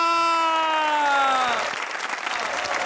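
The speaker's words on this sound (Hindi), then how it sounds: "तालियों की ऊंची रहेगी आवाज" Studio audience claps and cheers to welcome Yasir and Danish Nawaz onto a Lahore comedy show set, starting under a rising synth sting that fades out, then the clapping carries on alone, dense and steady.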